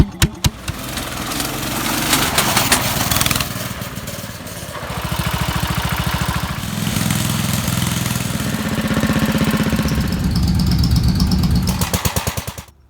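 Small Troy-Bilt 21-inch self-propelled walk-behind lawn mower engine, salvaged from a dump, running steadily at close range with a rough, buzzing idle that surges and settles before cutting out at the end.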